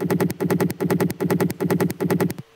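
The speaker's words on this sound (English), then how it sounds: "we added a little rolling bass" A processed rolling trance bass loop pulses in a fast, even groove of punchy low notes with bright attacks, repeating steadily and loud before cutting off at the end.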